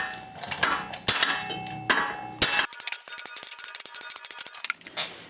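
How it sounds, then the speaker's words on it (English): Hammer striking the back of a flat sledge to knock a rusted front rotor loose on a 2005–2014 Ford Mustang: four sharp, ringing metal blows close by, followed by a quicker run of lighter metallic clinks and taps. "take a flat sledge and another hammer and hit the back of the sledge like this in each spot around here"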